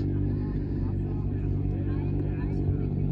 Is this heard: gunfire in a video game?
no